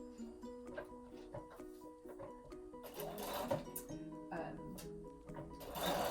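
Sewing machine stitching binding onto a patchwork lampshade, a quiet rhythmic mechanical whirr in short bursts, heard under a person talking.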